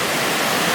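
Steady, loud broadband rush of a waterfall on Siargao Island, heard close and continuous with no pauses or voices.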